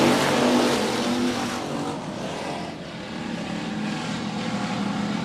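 Race cars at 105 Speedway on a regular race night, engines roaring together as the field takes the green flag, a loud, sustained droning that swells and eases slightly as the cars pass.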